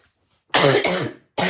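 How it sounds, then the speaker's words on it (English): Two quick, harsh coughs close to the microphone, a brief pause, then a third cough starting. "Still got the old cough."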